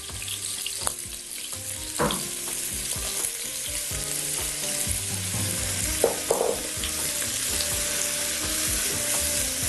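Onion added to hot oil for Algerian chorba fries with a steady sizzle, while water runs and splashes as from a tap and a few utensil knocks ring out, with no talking.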